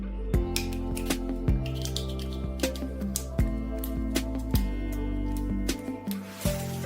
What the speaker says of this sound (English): use scissors to cut it into small pieces